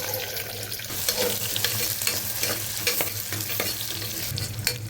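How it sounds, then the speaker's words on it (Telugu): Sliced onions, dried red chillies and fenugreek seeds fry in a pan with a loud, dense sizzle, broken by regular stirring scrapes and clicks of the spoon, with no voices. "ఉల్లిపాయలు అయితే మంచిగా ఫ్రై అయిపోయాయి"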